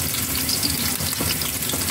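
Squid frying in hot oil in a pan for adobo, with a loud, continuous crackling sizzle heard close up and alone.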